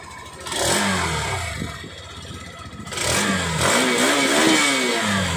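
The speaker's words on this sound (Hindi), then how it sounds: "सबसे पहले आप एक्सट्रीम का एग्जॉस्ट सुनिए एक बार।" Hero Xtreme 160R motorcycle exhaust revving up twice from a steady idle, each blip rising in pitch then settling, close and loud with no talk over it.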